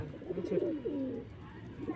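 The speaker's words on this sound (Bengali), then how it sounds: "সেটা বুড়িয়া পায়রা মনে হচ্ছে।" Desi pigeons from Khidirpur cooing nearby, a warbling, rolling coo that swells and fades over about two seconds against faint background murmur.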